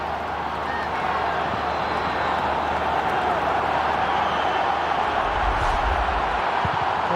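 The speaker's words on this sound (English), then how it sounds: "the Mayo crowd, some of whom have already climbed the reek this morning on what is Reek Sunday, of course, trying to make themselves heard here at Croke Park" Mayo supporters roar and cheer at Croke Park during the 2011 All-Ireland football quarter-final against Cork, a broad continuous crowd din with a commentator talking over it.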